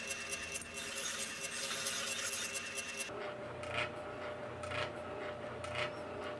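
A hand file rasps against a 5160 steel knife blade in repeated back-and-forth strokes, a scratchy rubbing texture that continues through the clip.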